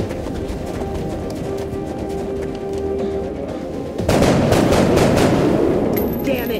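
Gunfire from the video game XCOM: Enemy Unknown rattles in sustained bursts over a continuous game soundscape and turns into a dense, louder volley partway through. A voice talks over part of it.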